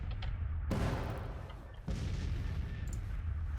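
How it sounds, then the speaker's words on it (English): Cannon artillery in the Civil War strategy game Grand Tactician, two heavy booming shots a second apart, each with a long rolling tail, over a continuous low battlefield rumble. "That's the cannons."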